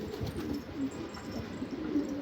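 Pigeons coo softly and repeatedly in a crowded loft of about 500 birds, low rolling calls overlapping one another against steady background noise, with no voices.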